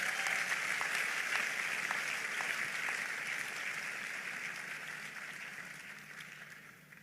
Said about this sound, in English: Help me give the Lord another big hand of applause.